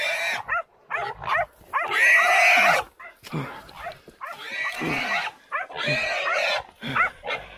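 Hunting dogs bark and yip in short, loud bursts while catching a feral pig in the New South Wales bush. Someone shouts urgently over them and close to them.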